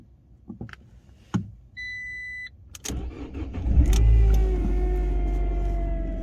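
A Fiat 500 with a flat battery, ignition switched on: scattered clicks and a brief electronic chime, then the starter catches and the small engine fires into a loud, steady idle.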